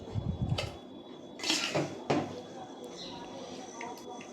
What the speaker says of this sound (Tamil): புளி கீரை எல்லாமே நம்ம இப்போ வந்து ஒரு மண் சட்டியில் போட்டு கடைஞ்சி எடுத்துக்கலாம்